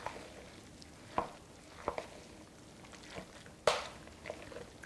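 Chopped ham being stirred into a rice bake, a quiet run of soft scraping and clicking spoon strokes at irregular intervals, one louder knock near the end.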